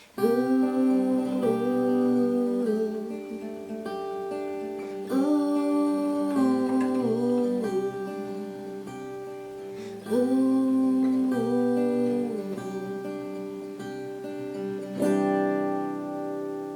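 Gentle finger-picked guitar chords ring out one after another, each pattern sustained and repeated in a steady, unhurried rhythm with no voices.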